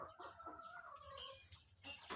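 Brooding hens in a poultry brooder section give soft, low clucks and murmurs, faint and continuous with a few sharper notes, in a quiet farm setting.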